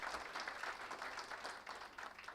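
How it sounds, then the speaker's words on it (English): Faint, steady audience applause at a public health campaign launch, with continuous clapping from a crowd heard at a distance and no voices over it. "I think he deserves a round of applause, Akshay Kumar ji."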